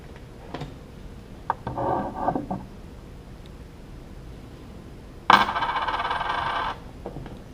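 A coin turns the visor screw on a Bell Bullitt helmet, giving two short bursts of metallic scraping and clicking in a quiet room, the second louder and longer.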